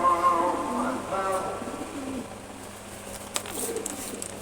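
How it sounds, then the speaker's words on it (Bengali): Caged pigeons coo softly in low, rolling calls while being bathed, with a brief hiss of spray from a bottle bursting through near the end. "আমি একটা কবুতরকে গোসল করিয়ে দেখাচ্ছি"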